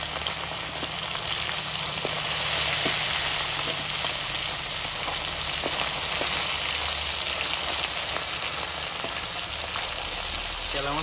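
River chela fish frying in hot oil makes a steady, dense sizzle that holds at an even level throughout, with faint crackles and no voices.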